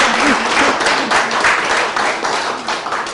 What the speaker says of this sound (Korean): 우리 이정훈 선생님한테 박수 한번 쳐주세요